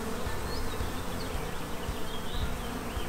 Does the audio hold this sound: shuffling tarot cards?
no